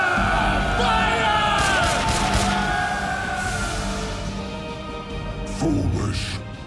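Soldiers in an Attack on Titan anime battle yell and scream together in a loud, continuous chorus of voices, with scattered battle noise beneath.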